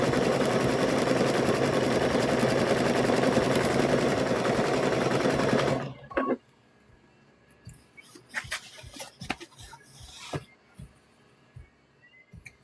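A sewing machine stitches red and green quilt squares in a steady, loud whir for about six seconds, then stops, leaving quieter handling clicks and rustles of fabric.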